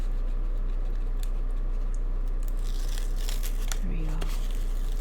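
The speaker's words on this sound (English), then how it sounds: "we're just gonna peel off all of that sticky tape" Sticky tape is peeled off a paper craft base with crinkly tearing and scratchy rustles that grow louder toward the end, over a constant low hum.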